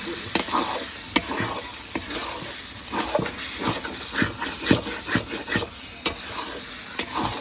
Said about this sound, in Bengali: এখন সব গরম মশলা দেওয়া হচ্ছে এলাচ দারচিনি